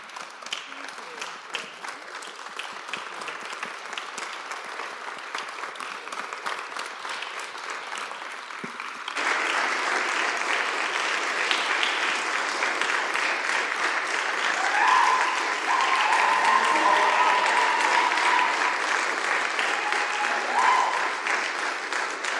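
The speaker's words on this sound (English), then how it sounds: "Can we conclude with an enthusiastic applause?" Enthusiastic audience applause at the close of a celebration honoring Paula, steady clapping that swells louder partway through and holds as a dense wash, with faint voices and cheers mixed in.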